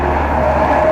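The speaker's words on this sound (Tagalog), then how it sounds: "Painit makina na, painit." Motorcycle engine idling to warm up on a cold, damp morning stop during a long Bicol road trip, a steady close low rumble without any change in pitch.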